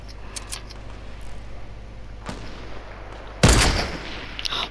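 Gunfire in the Fortnite birthday update: a faint crack just past two seconds, then a loud, sharp shot near the end with a short decaying tail, over low game ambience.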